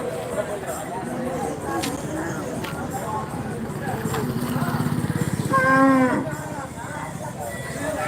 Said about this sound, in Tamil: மாட்டு மந்தை நடக்குது